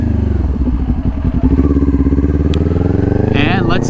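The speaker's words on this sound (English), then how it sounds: "let's take it up to speed and make our upshifts" A motorcycle accelerates onto a freeway and runs up through its upshifts, with a loud, steady engine drone and rising revs. Wind rush and clatter underneath, plus a brief higher whine near the end.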